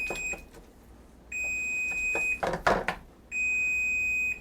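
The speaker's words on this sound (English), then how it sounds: "That beeping means that my chestnuts are ready to come out of the oven" An oven timer beeps in long, loud, high-pitched tones, three sustained beeps separated by pauses, with brief clattering in between, signaling roasted chestnuts are done.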